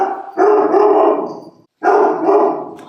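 A golden retriever barks and howls loudly up close, two long drawn-out yowling bursts separated by a brief pause, agitated and sustained.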